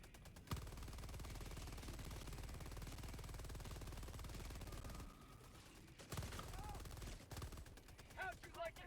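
A video game sentry gun fires at its highest rate, producing a dense, rapid stream of automatic gunfire that runs for several seconds. It then breaks into shorter bursts, with game sounds and voices mixed in.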